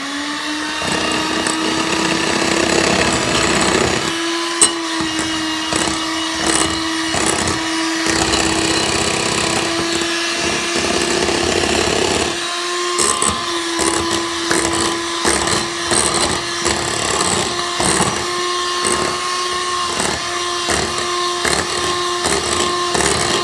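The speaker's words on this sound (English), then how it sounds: "we have to keep on mixing with the hand mixer and put a big spoonful of mascarpone each time" Electric hand mixer whirring steadily while beating mascarpone cream for a classic Italian tiramisu, a loud continuous motor drone that dips and rises with brief pauses and scraping through the bowl.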